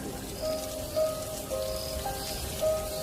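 Heavy rain pours steadily at night in a village during a storm, a dense continuous hiss of drops beating on surfaces with a few louder splashes, close and enveloping with no voices.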